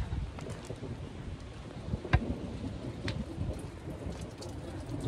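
Steady thunderstorm rain hisses over a garden with low rumbling thunder beneath and a few sharp crackles standing out, a continuous stormy wash with no speech.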